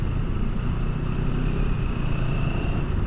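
A CFMOTO 700 CL-X motorcycle with a slipper clutch rides along, its engine a steady loud drone with a constant tonal whine and no clear break for a gear change.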